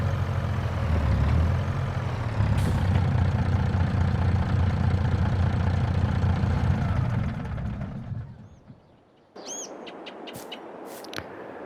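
A truck engine idles in Farming Simulator 22 on an Ohio farm, a steady low rumble that holds for several seconds, then cuts off and is followed by a few faint higher-pitched chirps.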